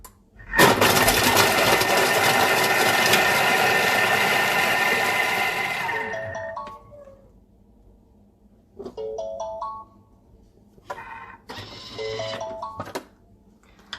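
A Thermomix chops shallots at speed 5 for five seconds with a loud, dense motor whir that ends abruptly, followed by a few short electronic beeping tone sequences from the machine.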